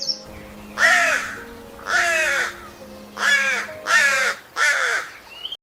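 A crow caws five times in loud, evenly spaced harsh calls over a steady low hum, with no other voices.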